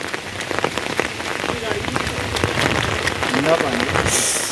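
Steady rain mixed with hail pattering on a surface, dense and close, with scattered louder drops and a brief faint voice partway through.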